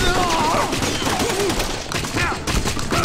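Rapid video-game gunfire from The Punisher, a busy fusillade of shots running the whole time, with background game voices and music mixed underneath.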